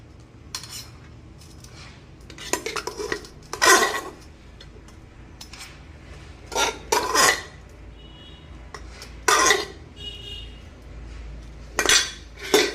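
Cooked rice is served with a ladle, heard as a series of sharp metallic clinks and scrapes against a pot at irregular intervals, separated by quiet gaps.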